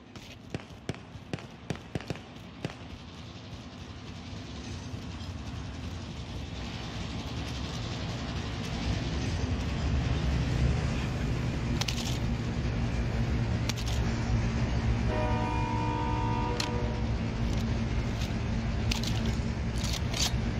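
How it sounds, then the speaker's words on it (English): A train in a video game rumbles and builds steadily in volume, with sharp clicks early on and a few tonal game sounds layered on top near the end. "oh, I can get on the train."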